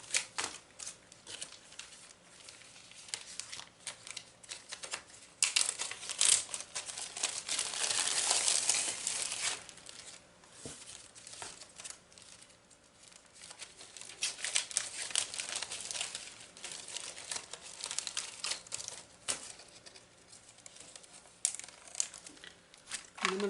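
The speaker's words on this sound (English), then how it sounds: "So I'm going to just trim around the acetate" Scissors trimming acetate sticker sheets, producing crisp plastic crinkles and snips close by, rising and falling in bursts over a quiet background.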